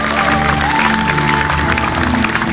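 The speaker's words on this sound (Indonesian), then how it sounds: "Tepuk tangan yang keras untuk teman Anda" A hypnosis-show audience claps loudly in a dense, continuous wash of applause, with steady tones and a background hum running underneath.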